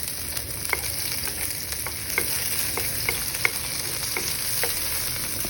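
Tomatoes and onions sauté with pork in a pan for ginisang patola, a steady soft sizzle punctuated by light clicks and taps of a spatula stirring, close and quiet, with no talk.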